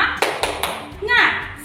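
A short rhythmic clapping pattern in a classroom: a few sharp claps spaced in a beat, followed by a voice chanting along.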